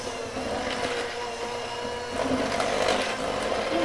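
An electric mixer whirs continuously through sugar cookie dough, a close, even motor drone that grows slightly louder and rougher toward the end.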